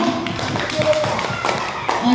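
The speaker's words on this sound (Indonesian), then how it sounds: "Tepuk tangan untuk kita semua." Indoor school gathering at an elementary school in Indonesia, where a group claps hands in a brisk, scattered patter of applause, fairly close, mixed with background voices talking.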